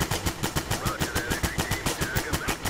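An automatic weapon fires in a video game, rapid evenly spaced shots rattling out in a continuous burst, fairly loud over a backdrop of game noise.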